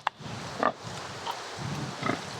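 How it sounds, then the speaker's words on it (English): Pigs on an off-grid farm grunting and oinking softly, several short snuffling grunts scattered across a quiet, close stretch with no talk. "But then we got pigs."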